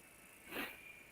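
A single short sneeze bursts out at moderate volume midway through, rising from quiet room tone and fading quickly with no talk around it.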